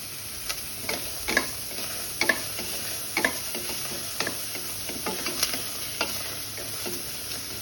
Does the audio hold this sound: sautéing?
yes